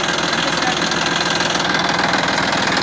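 Steady loud diesel engine running of a Massey Ferguson 9500 Smart tractor in first gear, a continuous throbbing drone with no breaks, close to the microphone.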